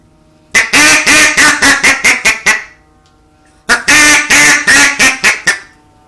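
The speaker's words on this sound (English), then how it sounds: "here are some of the duck calls that I've made already." Homemade wooden duck calls, turned on a lathe, blown up close in two loud bursts of rapid quacks, each run of about eight calls tapering off, with a short pause between the sequences.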